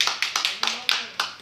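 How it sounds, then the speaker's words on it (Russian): Audience applause at a televised singing contest comes as a handful of sharp, separate claps in a loose, uneven rhythm, close and brief. "Ваши аплодисменты"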